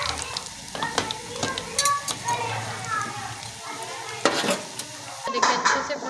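Chicken Manchurian bread rolls frying in oil, with a moderate sizzle, repeated scrapes and clinks of a utensil against the pan, and a voice talking over it.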